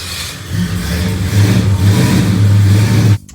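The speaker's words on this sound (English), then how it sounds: "I got the engine started." The engine of a 1969 Dodge Charger R/T roars up from a start into a loud, rough rev, holding a throaty rumble for about three seconds before cutting off abruptly.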